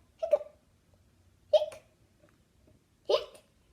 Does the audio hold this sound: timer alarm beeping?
no